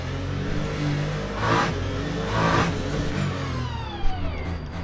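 A race car in Le Mans Ultimate coasting and braking into the pit lane, its engine a steady droning whine with a couple of swells, followed by a short clunk near the end.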